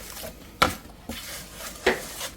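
Cornice mud for drywall taping is stirred in a container, giving a few sharp scraping knocks of the mixing tool against the sides between softer wet sloshing, close and intermittent.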